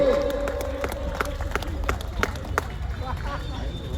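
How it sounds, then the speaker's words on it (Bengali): An audience claps at a children's comedy performance, a scattered burst of hand claps that fades over a few seconds, mixed with crowd murmur and voices. "একবার জোরে হাততালি হোক, জোরে"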